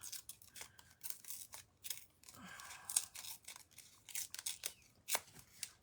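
Paper being ripped by hand into pieces for a card, a series of short, close tearing and crinkling bursts at irregular intervals, fairly quiet, with no talking.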